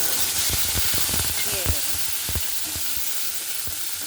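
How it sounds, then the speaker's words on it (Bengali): Onion and tomato paste hitting hot oil in a pan while making chicken bharta, a loud continuous sizzle and hiss with rapid stirring scrapes and knocks throughout. "এখানে আমার তেল গরম হয়ে গেছে আর এখন আমি পেঁয়াজ আর টমেটোর পেস্টটা"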